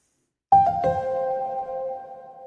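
Bright bell tones ring out twice in quick succession, then a sustained shimmering ring slowly fades, clear and alone, marking the close of a podcast episode.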